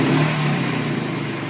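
A Nissan VQ V6 freshly swapped into a G35 revs loudly up close, its roar easing slightly as the revs settle back into a steady drone.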